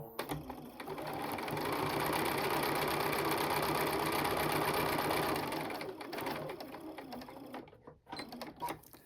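A sewing machine top stitches close to the edge of a small fabric oven mitt, running in a fast steady whir for several seconds before slowing and stopping, quiet and nearby.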